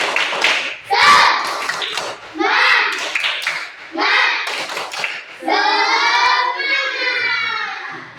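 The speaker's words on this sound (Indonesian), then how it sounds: "Tepuk semangat." Indonesian class performing the rhythmic tepuk semangat spirit clap in a math lesson, children's voices chanting along between patterned bursts of claps, close and fairly loud.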